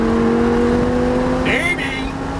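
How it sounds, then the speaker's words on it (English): A Lamborghini Huracan accelerates downhill on Sonoma Speedway, its loud engine holding a steady close drone that shifts pitch near the end, with a voice faintly present. "and then you can accelerate down the hill"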